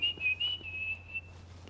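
A person whistles a short, quiet wavering tune over faint low background hum, brief and fairly close.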